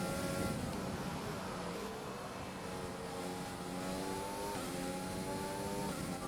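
Race car engines at Monza in a racing video game, loud continuous high-pitched revving with rising and falling gear changes as the car accelerates through upshifts.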